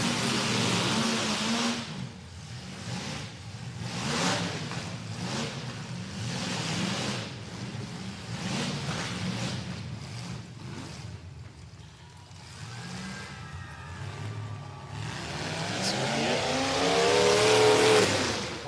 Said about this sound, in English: Thomas Wilson, a lone car left, still fighting.